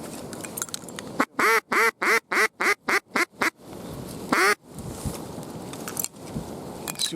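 Mallard ducks quack in a fast run of about eight loud, close calls, then one more after a pause, over steady wind on a Michigan duck hunt with a strong northwest wind.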